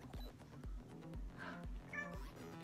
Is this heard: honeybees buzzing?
no